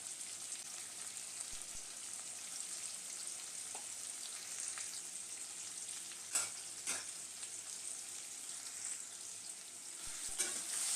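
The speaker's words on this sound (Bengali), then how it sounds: "এখন ভালোভাবে নেড়েচেড়ে আমগুলোকে ভেজে নেব।" Raw mango pieces with salt and turmeric frying in a pan for a sour mango pickle, giving a soft continuous sizzle with occasional scraping clicks of stirring, fairly quiet and steady throughout.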